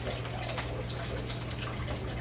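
Raw tap water is poured into a container for a water softener test, a continuous soft splashing trickle over a low steady background hum, with no one speaking.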